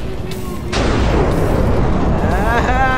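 A loud, close explosion in a modded Minecraft game, a sudden boom that sets off a long rumbling roar and crackle lasting several seconds.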